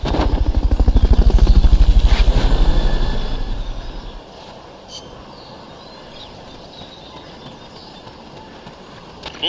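Helicopter rotor in the video game Metal Gear Solid Peace Walker, a loud rhythmic chopping throb that swells over the first four seconds and then fades away, leaving a quiet game background with a few faint clicks.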